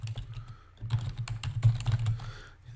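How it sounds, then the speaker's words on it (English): Quiet typing on a computer keyboard during software data entry, a close, irregular patter of light key clicks coming in short bursts. "let me type"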